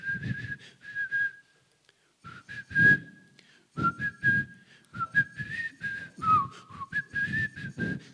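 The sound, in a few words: person whistling a tune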